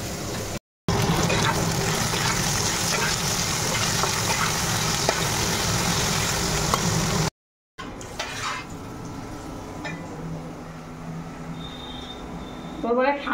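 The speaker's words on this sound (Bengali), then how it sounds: "মাছগুলো ভাজা হচ্ছে" Fish sizzle in a frying pan, a dense, loud crackling hiss that runs steadily, then breaks off into quieter kitchen clatter with a few scraping sounds.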